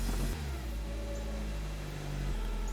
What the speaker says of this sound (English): So the engine is running. The engine actually sounds really good.